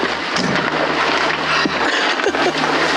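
Dense, steady hiss of heavy rain drumming on a roof at a campsite near Flagstaff, Arizona, loud and close, with occasional low rumbles and splashes underneath.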